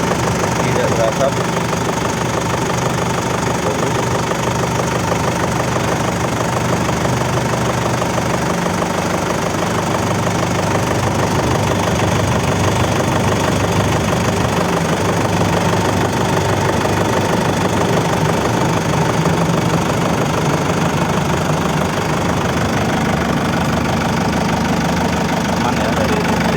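A cold Isuzu Panther diesel engine idles steadily with a rough, knocking clatter, a constant close drone throughout with no breaks.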